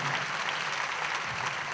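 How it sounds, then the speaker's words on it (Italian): Steady, fairly quiet theatre audience applause at a musical at Teatro Palazzo dei Congressi, continuous clapping throughout with no voices. "Questo merita un altro applauso"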